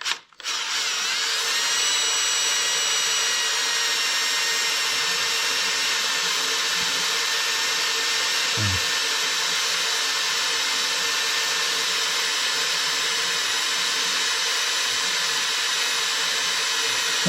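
Power drill with a resharpened, reground bit boring steel during repair of a New Holland road grader on a farm; a loud, steady whine runs unbroken and close for the whole stretch, with no talk over it.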